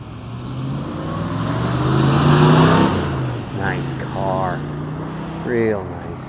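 Deep V8 rumble from a 1971 Ford Mustang Mach 1 429 Cobra Jet swells as the car drives past, peaking mid-clip then easing off, with voices talking over the engine toward the end.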